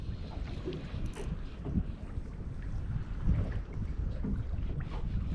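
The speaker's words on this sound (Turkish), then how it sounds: "kemerden esen bir rüzgarımız var" Wind gusts buffet the microphone in a low rumbling roar that rises and falls, with faint splashing beneath.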